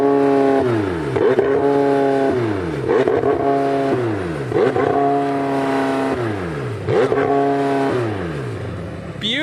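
A C8 Corvette engine revs repeatedly in loud, close bursts, each rising sharply and falling away in a steady rhythm of about five revs, with no talk over it.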